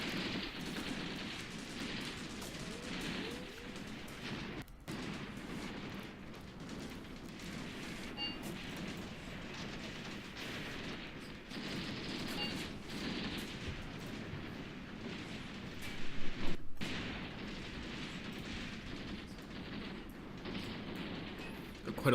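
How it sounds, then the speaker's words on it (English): Machine gun fire in the Graviteam Tactics wargame is heard at a distance: a dense, rumbling, continuous battle din with faint rattling bursts and one slightly louder burst near the end. "Getting absolutely pounded by our machine guns"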